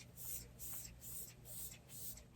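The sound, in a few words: Hourglass Veil Soft Focus Setting Spray being sprayed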